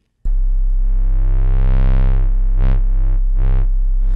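Bass Master VST synth bass tone held steadily while the mod wheel is moved, its brightness sweeping up and down in slow swells and two sharper wah-like peaks, loud and alone with no talking.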